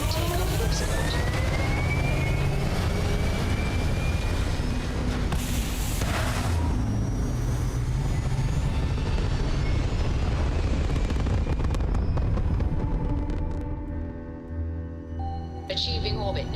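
A spaceship lifting off in Starfield, a loud sustained engine roar and rumble with whooshing, rising tones, fading toward the end into quieter hums and electronic beeps.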